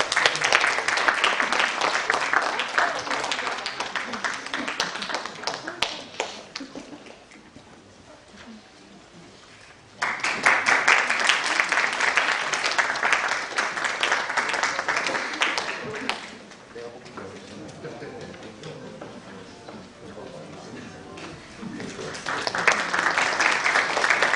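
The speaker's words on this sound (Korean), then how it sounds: "박수 쳐주세요." Audience applause at a youth forum lecture hall, a long dense patter of clapping that swells, dips to a softer patch midway, then surges again loudly before easing off.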